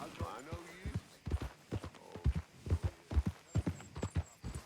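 Horse hooves clip-clopping in the Red Dead Redemption 2 video game, a steady rhythmic run of close, heavy thuds with a low hum underneath and some vocal sounds mixed in.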